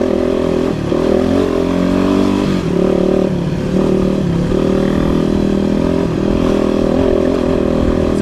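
A dual sport motorcycle on a rocky mountain trail near Colorado Springs runs loud and close throughout, its engine droning steadily with small rises in revs and some clatter from the rough ground.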